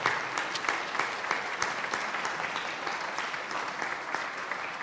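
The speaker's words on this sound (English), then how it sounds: "could you please stand up so people can give you a round of applause?" An audience at an annual meeting applauds teachers and youth leaders, a steady patter of many hands clapping at moderate distance, sustained evenly throughout with no talking over it.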